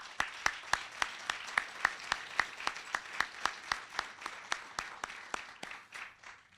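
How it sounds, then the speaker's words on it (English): Audience at a fall college speech showcase applauds themselves with steady, rhythmic clapping, individual sharp claps standing out over a dense wash of hands. It is moderately loud and carries on for several seconds with no talk. "a round of applause for yourselves"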